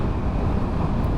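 Strong wind buffeting a motorcyclist riding on a windy Danish road, a dense continuous roar of wind noise with no speech.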